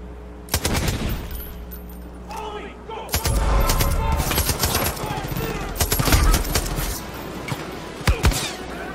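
Enemies open fire in Far Cry 5, loud bursts of gunshots and automatic fire cracking in irregular volleys over several seconds, with a voice speaking amid the shooting.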